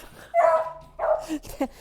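Several excited dogs bark and yip in short, loud bursts close by, with a brief whimpering yelp near the end and a faint voice underneath.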